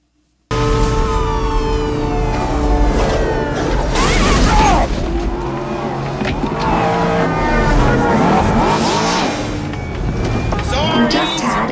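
A car crash plays out amid loud engine roar and a bang, with voices talking over the noise throughout.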